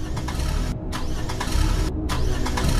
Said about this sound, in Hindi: गुली गाड़ी स्टार्ट करता है लेकिन गाड़ी तो स्टार्ट ही नहीं हो रही है।